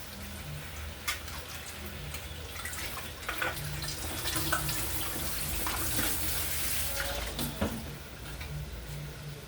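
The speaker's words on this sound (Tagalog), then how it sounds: "Yan, lagyan ng tubig." Water poured into a covered cooking pot during home cooking: a steady close rush of running water, like a tap, lasting throughout with small clinks and no clear speech.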